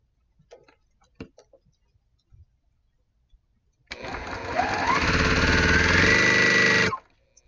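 A sewing machine stitches fabric quickly, a steady, loud, rapid mechanical whirr running for about three seconds after a few light clicks and taps, then stopping abruptly.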